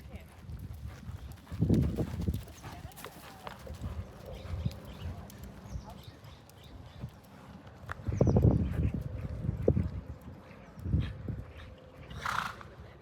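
A horse cantering in a warm-up session, hooves thudding in rhythmic bursts at moderate distance, while a trainer's voice talks over it at times.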